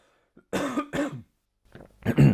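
Two short, harsh coughs burst out close to the mic, then a pause and a quieter throat-clearing cough, from someone with a sore throat.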